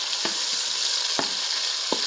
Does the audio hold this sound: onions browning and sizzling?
yes